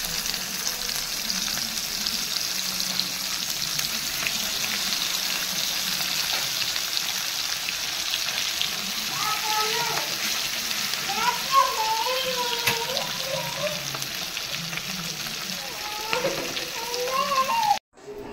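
Fish frying Kerala style in a hot pan gives a dense, steady sizzle and crackle that continues close and loud, with brief faint tonal sounds partway through.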